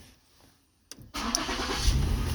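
A 2013 Ford Explorer starts up: a brief starter crank, then the engine catches and settles into a steady, loud idle, heard close and without talk.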